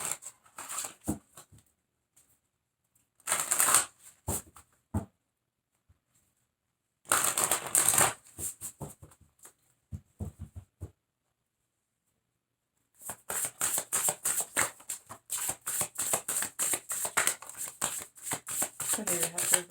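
Tarot cards being shuffled in bursts, a crisp riffling patter coming in several separate runs with pauses between them, close and fairly loud, the longest run near the end.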